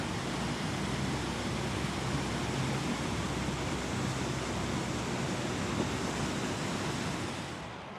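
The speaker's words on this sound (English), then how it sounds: "And there's the overflow channel. You can see it's a powerful current coming out." Flood water rushing hard out of an overflow channel beside a narrowboat, a dense, constant roaring wash of noise with no breaks, loud and close.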